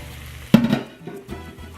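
A Spanish omelet goes back into a hot pan with olive oil, giving a sudden loud sizzling burst that fades to a quieter crackle, then a second, softer flare of frying shortly after.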